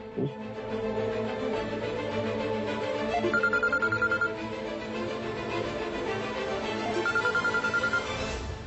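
A phone rings out with a repeating electronic ringtone pattern, moderately loud and steady, heard alone without talk.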